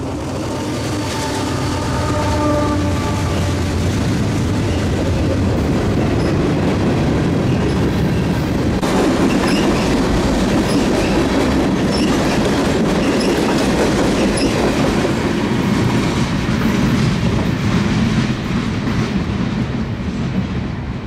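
A freight train hauling several locomotives in its consist rolls past at close range, a loud steady rumble with rhythmic wheel clatter on the rails and occasional faint squeal, continuous for the whole stretch with no voices.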